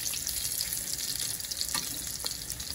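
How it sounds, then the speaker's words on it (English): Sausage fries in a pan with a steady, close sizzle and crackle, plus occasional faint stirring or scraping sounds, and no one speaks. "Oh, it looks like my sausage is cooking."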